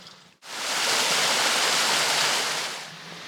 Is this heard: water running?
yes